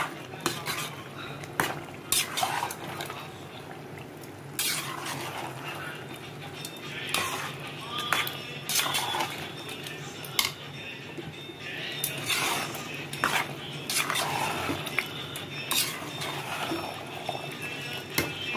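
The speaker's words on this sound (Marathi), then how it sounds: "आता मसाल्यामध्ये आपल्याला पूर्ण पनीरमध्ये एक करून घेऊया।" A spoon scrapes and clanks in a pan as paneer is stirred into a masala for paneer pulao, an irregular series of close metallic knocks and scrapes, with a dog barking and whimpering in the background.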